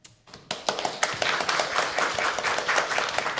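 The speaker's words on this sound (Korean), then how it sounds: "여러분 뜨겁게 박수로 환영해 주시면 감사하겠습니다" A church congregation bursts into applause to welcome the pastor at a year-end prayer service, starting abruptly after a brief quiet and building into a steady, fairly loud patter of many hands.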